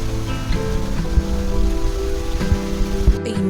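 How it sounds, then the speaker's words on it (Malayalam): Steady rain pours onto a surface near a home, a loud, dense and unbroken hiss with no voices over it. "എന്തെന്ന് ഇടയ്ക്ക് മഴ വരുന്നുണ്ട്, ഇടയ്ക്ക് വെയിൽ വരുന്നുണ്ട്"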